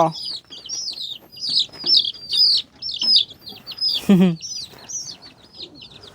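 Chickens settling in to roost on a Thai farm cluck and chirp in overlapping, steady calls, with one louder nearby squawk partway through and faint talk underneath.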